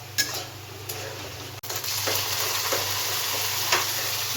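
Onions and spices frying in hot oil while cooking a fish chop, a steady close sizzle with occasional stirring scrapes and light utensil clinks, no talking.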